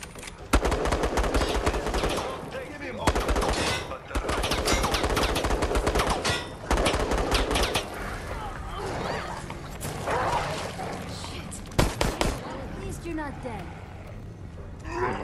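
Rapid bursts of automatic gunfire from Nikolai characters in the Resident Evil Resistance game, loud clustered volleys with short gaps between them, over game noise and a talking voice.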